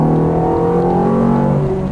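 A Ferrari F430 F1 at full throttle on a cone-marked track course at Exotics Racing Las Vegas, its engine a loud, steady, close-up roar of layered tones that holds strongly for the whole moment.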